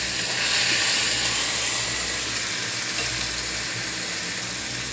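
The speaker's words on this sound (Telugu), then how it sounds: "ఇప్పుడు చిట్టపటలాడుతుంది కదా, మిక్సీ చేసుకున్న పేస్ట్ అంతా ఇందులో వేసేయాలి" Ground spice paste with onion sizzles loudly in hot tempering oil seasoned with asafoetida and turmeric, giving a steady, dense, close frying hiss throughout with no talk.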